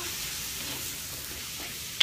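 Noodles for Malaysian mee goreng frying in a pan with a steady, soft sizzle while being stirred, plus one sharp clink of the utensil near the end.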